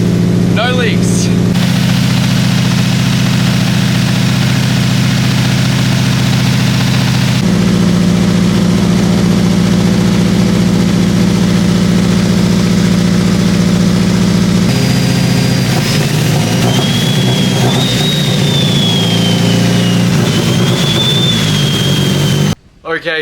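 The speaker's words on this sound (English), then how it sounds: "this hasn't been tuned for the turbo, the injectors, the fuel rail, and it's idling" A turbocharged Nissan S13 engine idles after its first start on an untuned setup, a steady loud rumble throughout, with the idle hunting and shifting tone partway through.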